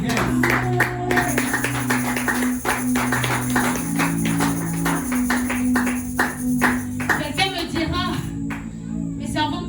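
A church congregation claps and acclaims the Lord during a French-language worship service, rhythmic hand claps running steadily under music and sustained tones, with voices speaking over them.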